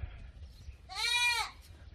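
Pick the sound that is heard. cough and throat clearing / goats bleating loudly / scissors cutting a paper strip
goats bleating loudly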